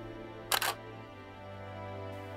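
One crisp mechanical shutter release from a Canon 6D firing during a timelapse, a quick double-click burst up close, over a faint steady electrical hum.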